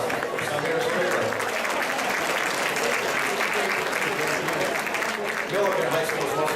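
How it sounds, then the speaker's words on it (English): A school audience gives a warm, sustained round of applause for a student at a most inspiring student award event, a thick, even wash of clapping with a voice heard over it. "Please, a warm round of applause for Samir Strickland."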